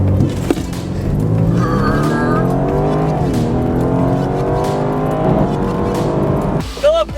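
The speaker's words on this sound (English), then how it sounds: "We're gonna do launch control." A BMW launching with launch control, engine held then surging with rising pitch through long, loud pulls and a gear change midway, close and powerful, ending abruptly with a brief sharp noise.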